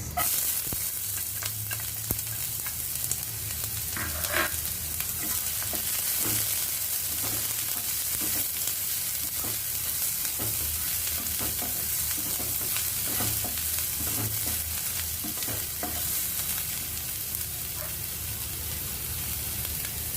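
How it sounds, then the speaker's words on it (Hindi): Onions fry in hot oil over high heat until golden brown, giving a continuous dense sizzle with repeated stirring scrapes and clicks, close by and unbroken for the whole stretch, with no voices. "प्याज को भी गोल्डन ब्राउन होने देंगे हम"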